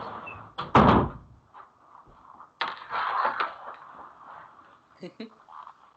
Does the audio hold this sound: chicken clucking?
no